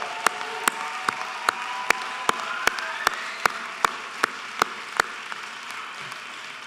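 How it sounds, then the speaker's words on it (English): Audience applause for graduates at an elementary school ceremony, a steady wash of clapping with one sharp, evenly spaced clap or knock standing out nearly every half second throughout. "Let's give them a big round of applause."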